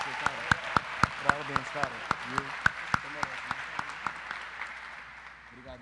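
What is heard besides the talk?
audience applause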